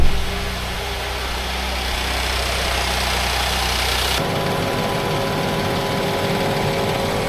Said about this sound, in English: So we're gonna let this run and warm up.